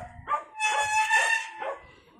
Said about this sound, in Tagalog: May aso lang kasi.